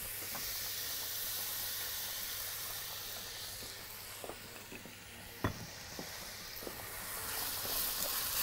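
Vegetables sauté in olive oil in a pan, producing a steady, close hissing sizzle that carries through the whole stretch, with a few soft clinks and stirring knocks partway through.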